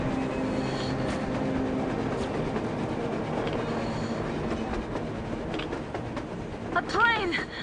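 A train rolling across the surface in the Metro video game, a continuous rumbling clatter of wheels on rails at moderate distance, with brief squeals and shouting voices near the end.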